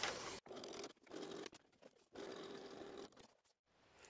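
A sewing machine topstitches close to the edge of fabric for an evening clutch, running in several quick bursts of close whirring stitching separated by short pauses.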